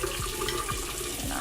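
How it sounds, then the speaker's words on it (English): Steady running water splashes continuously, like liquid poured from a tap into a container, with a few low thumps underneath. "So I'm going to add a little bit of water."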